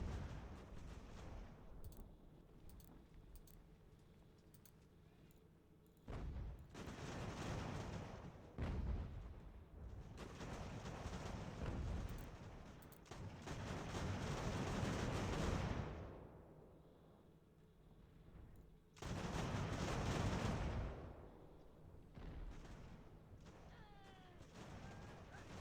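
Artillery fires in the Ultimate General: American Revolution video game, with several faint, distant booms and rumbling volleys in separate bursts over a quiet battlefield background.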